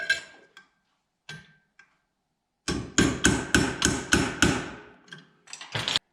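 Hammer striking a center punch to mark a hole while fitting Wilwood mechanical parking brake calipers: a few scattered taps, then a rapid run of about six sharp metallic blows, close and clear with no talk.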